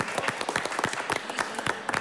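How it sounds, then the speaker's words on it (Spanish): Applause from a studio or event audience greeting Olympic athlete Milton Wynants, with irregular claps close by and continuing steadily for a couple of seconds. "Un aplauso para Milton Minas."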